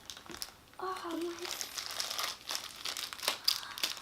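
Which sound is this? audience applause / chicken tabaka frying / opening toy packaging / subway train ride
opening toy packaging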